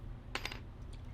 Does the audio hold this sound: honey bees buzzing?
no